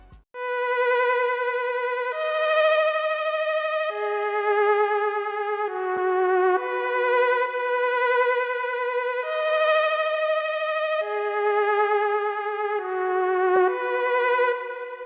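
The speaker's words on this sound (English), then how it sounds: "Next I added the classic theremin lead" A theremin lead from an FL Studio glo beat, a smooth gliding synth melody of sustained notes that bend from pitch to pitch, steady and loud with nothing else over it.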